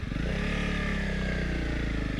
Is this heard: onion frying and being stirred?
no